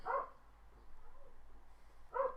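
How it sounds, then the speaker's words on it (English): A dog barks twice indoors, short sharp yaps about two seconds apart with quiet room tone between them. "Apologise for the dog."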